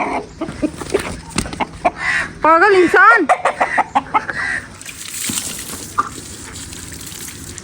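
A chicken clucks and squawks nearby among short bursts of talk, followed by a rushing, splashing water sound.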